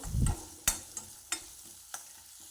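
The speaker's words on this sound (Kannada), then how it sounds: "ಎಣ್ಣೆ ಬಿಸಿ ಆದಮೇಲೆ ಈರುಳ್ಳಿ ಹಾಕ್ತಾ ಇದ್ದೇನೆ" Thickly cut onions frying in hot oil in a pan, a low sizzle opening with a short rumble, then a few sharp clinks and scrapes of a spoon spaced through the quiet hiss.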